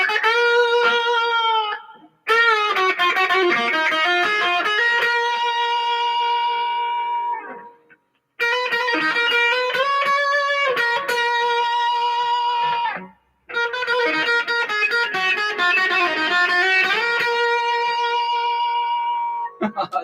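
An electric guitar plays through a Marshall amp with a bright digital reverb. Sustained chords and notes ring out in three phrases separated by short pauses, with the reverb tails trailing off.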